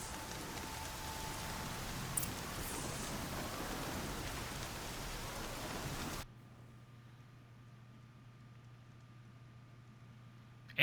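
Steady rain hisses down in the Horizon Zero Dawn game world, a dense, even wash for about six seconds before it abruptly cuts to a quiet, near-silent low hum.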